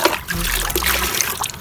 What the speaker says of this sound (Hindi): मिनी डंपर ट्रक, ये भी पानी में गया।